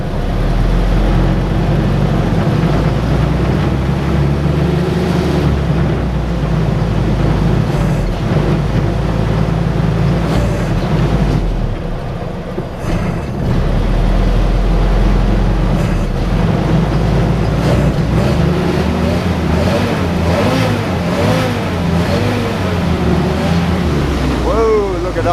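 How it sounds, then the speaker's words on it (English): A Jeep CJ2a engine, running hot and smoking, revs under throttle with a loud, steady rumble that swells and falls throughout, while people talk over it. "so let's give it a little throttle."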